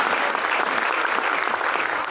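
Loud, continuous applause from the audience at a Hindi poetry gathering, thick and even crowd clapping with no pause.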